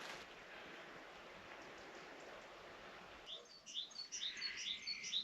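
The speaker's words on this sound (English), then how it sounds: "the birds are chirping" Morning birdsong at an off-grid building site in Portugal: after a few seconds of steady wind-like hiss, several birds break into bright, overlapping chirps and tweets, close and fairly loud, continuing to the end.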